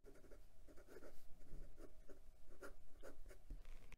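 Stiff 14k gold nib of a Wing Sung 629 piston-filler fountain pen scratching across paper in quick, repeated strokes, close and fairly quiet, with no voices.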